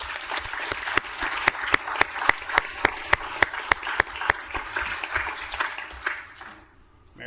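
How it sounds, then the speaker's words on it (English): City council meeting audience applauding a National Public Works Week proclamation, a moderate crowd clapping with some sharp individual claps ringing out regularly, tapering off and stopping near the end. "How about a round of applause?"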